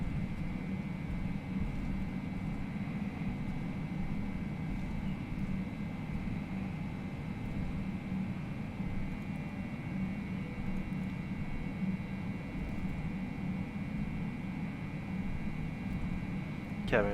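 Engine roar of an Airbus A320 in the FSLabs flight simulator as it takes off from runway 34 left at Sydney, a steady, even drone with a voice speaking over it.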